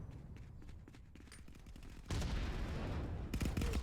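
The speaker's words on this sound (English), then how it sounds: "there's the gunshots" Gunfire in the ContractorsVR shooter game, scattered distant shots at first, then a dense, louder burst of rapid fire that keeps going to the end.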